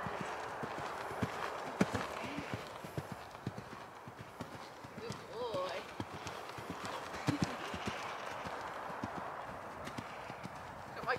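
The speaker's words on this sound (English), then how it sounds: "He's one of our livery horses and I like to jump him every now and then" A livery horse being ridden, its hooves clip-clopping in a steady, continuous rhythm throughout, close by, with voices talking faintly underneath and a brief whinny-like sound midway.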